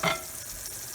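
Ampalaya with shrimp being stirred and fried in a pan gives a soft, steady sizzle with a brief scrape of stirring at the start, quiet and close with no talk.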